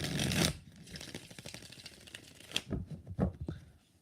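Tarot cards are shuffled by hand in a series of quick, papery riffles and taps, close and fairly quiet, with a few sharper card slaps standing out.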